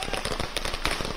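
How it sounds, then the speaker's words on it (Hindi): Fireworks burst during the Deepotsav celebration in Ayodhya, heard as a quick run of crackling, popping bangs that blend into a dense, noisy wash. "आतिशबाजी होती हुई नजर आ रही है"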